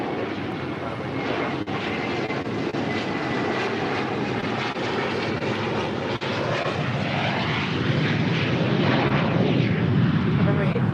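A United airliner takes off from runway 25 right at Los Angeles International, its jet engines producing a loud, sustained roar that swells and spreads, with radio talk in the background.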